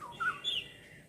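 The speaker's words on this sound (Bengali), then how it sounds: "মানে পাখিদের এরকম ডাক শুনছি আর ভালো লাগছে। দেখো হলো বুলবুলি পাখিগুলো ওখানে" Bulbul birds calling outdoors, two or three faint, thin chirps in quick succession at a moderate distance.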